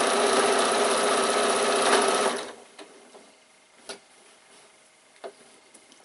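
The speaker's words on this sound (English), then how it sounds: "And you're going to repeat exactly the same with the lining, but leaving a little gap." A sewing machine stitches a bag lining in a steady, loud burst for about two seconds, then stops, leaving quiet handling clicks and taps.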